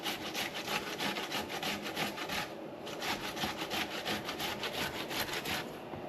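Steady rhythmic grating of an ingredient for a sorrel drink, rapid scraping strokes repeating evenly and close by, with no talk.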